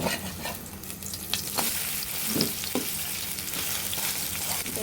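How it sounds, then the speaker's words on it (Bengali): Whole Malabar spinach leaf fritters frying a few at a time in hot oil, a loud continuous sizzle with bursts of crackling and the scrape of turning them in the pan, no voices. "আপনি তিন চারটে করে একসাথে ভেজে ভেজে নামিয়ে নেবেন এখন আমরা উল্টিয়ে নেব"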